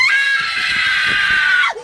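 A person gives one loud, sustained, high-pitched scream lasting under two seconds, cut off sharply at the end.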